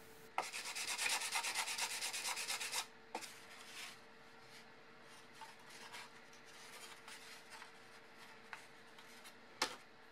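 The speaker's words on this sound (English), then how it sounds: "Then glue on and blend the front deck with a little bit of sanding." Sandpaper rubs over the front deck of a balsa model airplane in a burst of rapid, close scraping strokes lasting a couple of seconds, followed by faint handling noises and light taps.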